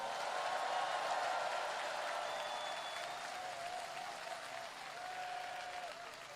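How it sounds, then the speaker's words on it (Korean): A crowd at an outdoor election campaign rally in Ansan applauds in a dense, continuous wash of clapping that stays fairly even throughout, with faint cheering mixed in. "격려의 박수 부탁드립니다."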